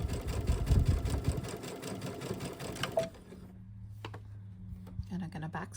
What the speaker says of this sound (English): And we're just gonna keep stitching until we get to that tape piece number